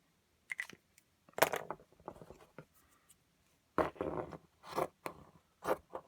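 Scissors snip through a spare gray sock to cut two small squares, a series of short crisp cuts and scrapes separated by pauses, close and fairly quiet.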